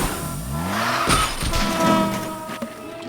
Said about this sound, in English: crossing the street and then this big car wreck.